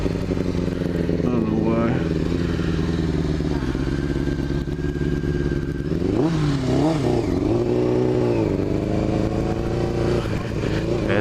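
A clutch motorcycle revs hard as the rider lifts it into a wheelie on a road, its engine roaring steadily loud and close with rising and falling pitch, while someone briefly talks over it.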